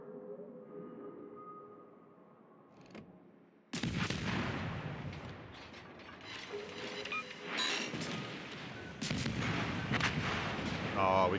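Naval gunfire from enemy ships concentrating fire on a destroyer in World of Warships: sudden heavy booms open a dense, rumbling barrage of shell impacts and mechanical clatter, with some radio-like voice chatter underneath.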